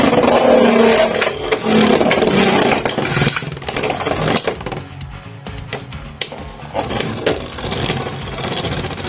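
Beyblade X tops, including a Meteor Dragoon combo, spinning and clashing in a stadium after a launch: loud, dense scraping and grinding with sharp impact clicks throughout, easing briefly midway before building again.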